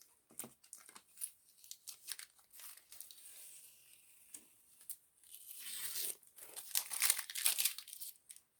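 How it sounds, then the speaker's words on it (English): Masking tape peeled slowly off a finished watercolor mountain painting on paper, a series of faint crinkling, tearing strips in short bursts that grow louder and longer toward the end, with no talk. "I'll pull the tape and then we'll come back."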